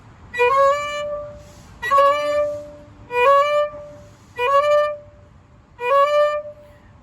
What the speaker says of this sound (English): Then we get to our down bow 3-note slur. So that sounds like this.